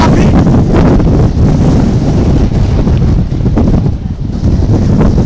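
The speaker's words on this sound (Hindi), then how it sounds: "काफी तेज हवाएं इस परिसर में चल रही है" Strong wind from Cyclone Biparjoy sweeps across the Gujarat coast at Dwarka, roaring loudly and steadily throughout with heavy buffeting against the microphone, with no pauses.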